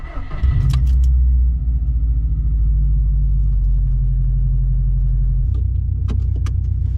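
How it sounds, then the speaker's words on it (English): A 2004–2007 Subaru STI engine rumbles steadily at close range with low droning power while driving, a brief rev near the start and a few light clinks near the end. "let's drive the car a little bit"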